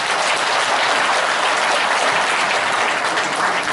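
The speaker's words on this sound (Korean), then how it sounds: "여러분 이목희 위원장님이 좋은 의미를 담아서 박수 한번 크게 보내주십시오" An audience at a regional economic forum held at the Gumi Chamber of Commerce applauds loudly and steadily, a dense, even wash of many clapping hands with no voices over it.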